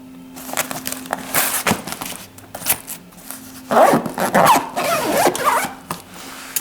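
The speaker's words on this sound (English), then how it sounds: "then we can zip up the pocket in the canvas" A zipper closes a pocket in the canvas of a seat backrest pad: a rasping zip runs for several seconds, loud and close, with a short scratchy pull before it and handling noise throughout, no talk.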